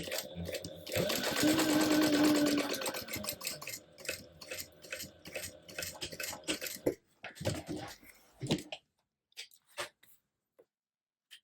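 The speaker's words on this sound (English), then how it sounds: "go ahead and top stitch 1/8 of an inch away from the raw edge" A sewing machine top stitches a shoulder bag 1/8 inch from the raw edge, running in a loud steady whir for several seconds, then slowing and stopping into a few faint handling clicks and rustles.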